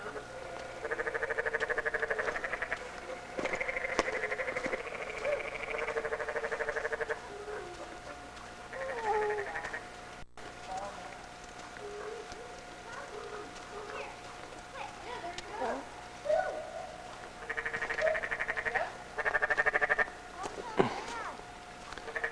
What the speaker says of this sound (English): Are they frogs?